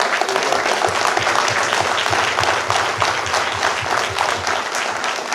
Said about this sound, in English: I want everybody to give the crew another round of applause